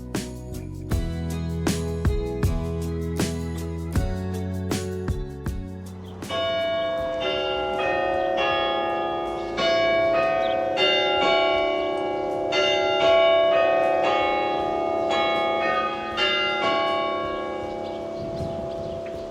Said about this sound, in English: the bell started to ring